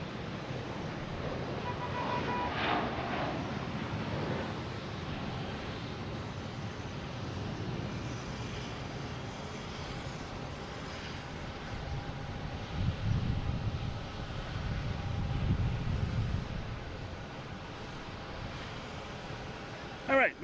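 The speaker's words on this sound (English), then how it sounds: "we got a JetBlue heading to Seattle" A JetBlue airliner bound for Seattle rumbles at Boston Logan International Airport in the early morning, a steady broadband jet roar mixed with wind that stays fairly even throughout, with faint indistinct voices now and then.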